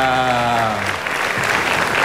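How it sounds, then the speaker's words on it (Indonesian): Audience applause at a live evening show in Indonesia, a dense continuous wash of clapping from a large crowd after a sustained musical tone fades out. "Tepuk tangannya sekali lagi yang paling meriah dong buat acara kita."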